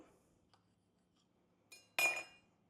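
Lime slices and ice dropped into a glass punch bowl of festive Christmas punch; a couple of faint clinks, then one bright splashy clatter of ice against glass, close and otherwise quiet.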